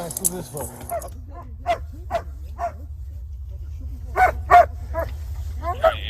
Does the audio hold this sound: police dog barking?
yes